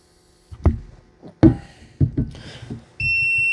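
A portable gas detector sounds its steady high-pitched buzzer alarm during a carbon monoxide bump test, starting abruptly after a few handling knocks and clicks and holding loud and continuous to the end.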